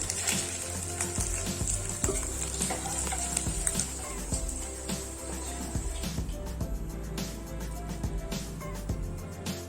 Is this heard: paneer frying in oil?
yes